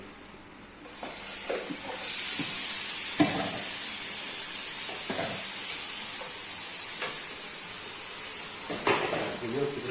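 Steady loud sizzling of chicken drumsticks frying in a hot pan, with occasional clinks and scrapes of utensils against the pan.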